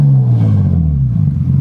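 Nissan R33 Skyline engine, midnight purple, rumbling at idle and rising in a deep rev, close and loud, steady low drone throughout with no talking.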